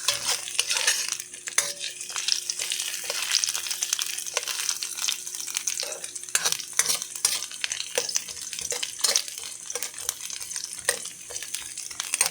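Garlic sautés in a pan for a mussel tinola, sizzling steadily and close while a utensil stirs and scrapes against the metal in irregular taps.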